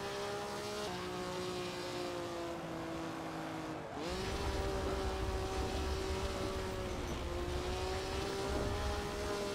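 Maserati 250F V12 racing at historic Silverstone in a racing sim, a loud high engine wail holding steady, a quick dip as revs drop around a shift, then a harsher rougher roar as it pulls again.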